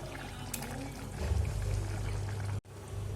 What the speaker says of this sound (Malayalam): ഇനി ഇതിലേക്ക് നമുക്ക് മുട്ട ഒഴിച്ചു കൊടുക്കാം.